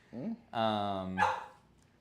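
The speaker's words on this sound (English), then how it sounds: "oh, my poor dog. She's so upset." A pet dog gives a short yip followed by a long, strained whining bark and a final sharp bark, fairly close but moderate in level, with no talk over it.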